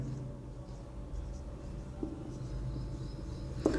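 Chalk or marker writing a single word on a classroom board, faint scratchy strokes over quiet room tone with a small tap near the end.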